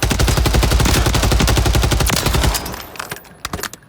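Suppressed SOA Subverter rifle fired in a long rapid automatic burst at a Warzone firing range, with steady evenly spaced thumping shots that stop abruptly, leaving a few faint clicks and handling noises.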